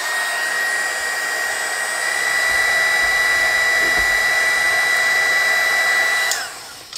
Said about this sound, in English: It's a heat gun and it gets hot.